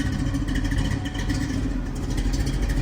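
The engine of a 1966 Chevrolet Chevelle runs steadily close by, a dense low rumble with a slightly uneven pulsing and mechanical clatter, heard alone.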